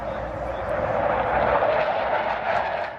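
Eurofighter jets flying over the ILA aerospace trade fair showground in Berlin, a broad roaring rush of jet noise that swells and fades, fairly loud and continuous.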